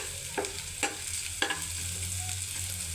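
Tomatoes frying in a pan during home Bengali-style cooking, with a steady sizzle throughout and three sharp scraping stirs of a utensil, close and moderately loud, no talking.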